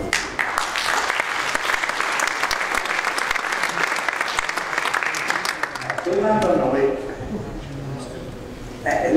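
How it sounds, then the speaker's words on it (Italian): Delegates at a national trade union congress applaud a translator with loud, sustained clapping from a full hall for about six seconds before a voice starts speaking over the fading sound. "un applauso"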